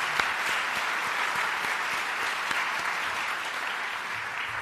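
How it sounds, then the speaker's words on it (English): Steady applause from an audience at a trophy ceremony, a dense, even wash of many hands clapping that holds at a constant level throughout, moderately distant with no voices over it. "I want to give you guys a round of applause"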